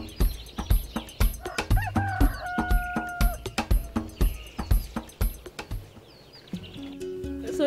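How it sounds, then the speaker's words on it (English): Chickens cluck and squawk close by in quick repeated bursts, with brief higher calls mixed in, continuing steadily without talk. "a few chickens that live in her dark kitchen."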